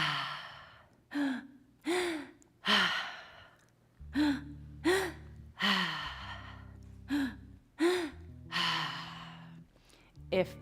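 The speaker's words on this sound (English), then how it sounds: "In and out through the mouth." A breathwork session leads rhythmic, deep breathing in and out through the mouth, about a dozen loud, close sighing breaths in a steady cycle, with a tone humming underneath.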